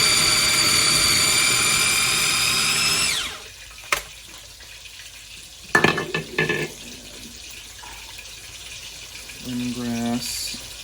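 Onions and garlic grinding in a food processor, a loud whirring motor roar for about three seconds that then cuts out, leaving scattered clatters and knocks and a brief buzzing pulse near the end.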